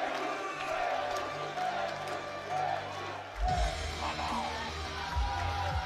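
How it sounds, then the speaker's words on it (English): A large crowd cheers and roars at a strongman competition in Sheffield as a powerlifter reaches a record total, a steady wash of voices that swells louder partway through, with a commentator talking over it. "Listen to the crowd cheering."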